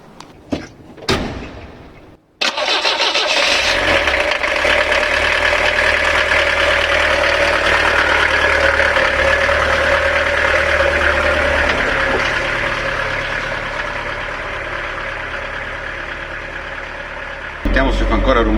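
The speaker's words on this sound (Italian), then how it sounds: "E forse sentite un po' il rumore amplificato del motore" Car engine idling after a driveshaft universal joint was replaced: a quick knock or door thump at the start, then a steady, smooth, fairly loud hum holding evenly for about fifteen seconds before another sharp change at the end.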